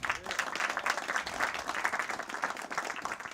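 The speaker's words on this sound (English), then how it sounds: "Big round of applause for Volume 1." Steady applause from an audience at a book launch held in a showroom, a dense patter of many hands clapping continuously at moderate volume with a faint voice briefly underneath.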